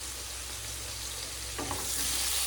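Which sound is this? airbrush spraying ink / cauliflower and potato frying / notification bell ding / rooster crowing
cauliflower and potato frying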